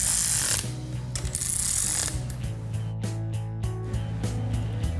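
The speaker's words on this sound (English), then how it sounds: "We'll just run these down a little bit with the wrench." A wrench run down on bolts to take up the slack, its ratchet giving rapid mechanical clicking and gear-like rattles, close and fairly loud, with a steady low mechanical drone underneath and no talking.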